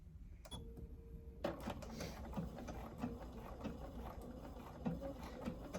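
A Bernina computerized sewing machine stitching out decorative stitches, its needle mechanism ticking in a fast even rhythm with brief clicks and a steady motor whir, close up and uninterrupted, with no talking.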